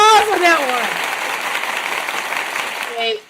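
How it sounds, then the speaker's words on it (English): A short burst of dense clapping and applause, loud at first and fading slightly, with brief voices at the start and end. "I gotta give you a round of applause on that one."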